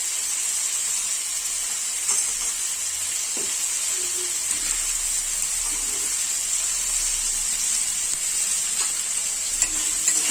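Turmeric powder and salt sizzling in a frying pan for an egg potato pasta, a constant loud hissing fry with faint stirring taps running throughout and no voice heard.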